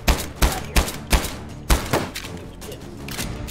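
Pistol shots from the Take & Hold video game, five sharp, punchy reports fired in a quick irregular series, then softer thuds and game clatter trailing off.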